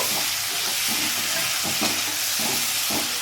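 Cabbage, potato and pea curry stirred in a pan produces a continuous sizzle with rhythmic scraping strokes of a spoon repeating roughly every half second, close and steady, with no one speaking.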